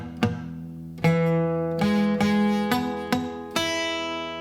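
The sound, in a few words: guitar chord with buzzing muted strings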